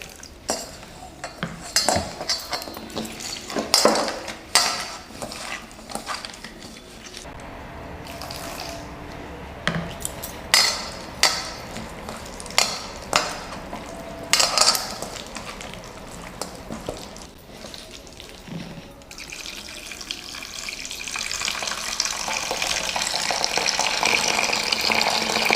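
Tamarind sour water for fuchka being mixed in a bowl with salt and a little water, bringing repeated clinks of a spoon against the dish and splashing water, then a steady running-water wash near the end, close by with no talk.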